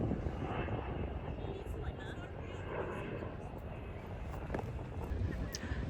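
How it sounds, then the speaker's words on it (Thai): An airplane drones steadily overhead in an outdoor coastal setting at Gerringong, Australia, a faint, continuous broad rumble with some background noise. "เครื่องบินมันเลิศจังเลยอ่ะ"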